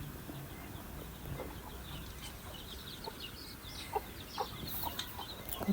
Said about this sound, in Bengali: তো এই যে আমার যাই আবার বললো মুরগির বাচ্চা উঠাইছে।